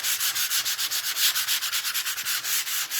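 A painted wooden sign is sanded by hand with sandpaper, giving rapid, even back-and-forth scratchy strokes, close and steady, with no talking.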